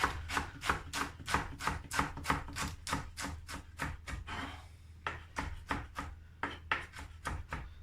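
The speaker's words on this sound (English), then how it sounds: "Just going to finely slice that." A knife finely slicing a bundled ball of foraged greens on a board, a fast steady run of crisp close chops with a brief pause midway before the chopping resumes.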